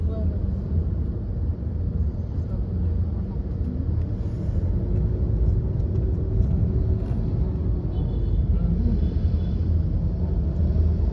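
Steady low rumble of road traffic heard from inside a vehicle on a road trip toward Baclaran, continuous and fairly loud throughout, with faint voices in the background.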